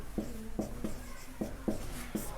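Chalk or marker strokes on a board during a tenth-grade maths lesson on triangles, with short scratchy taps and scrapes in an uneven rhythm, close and moderately loud.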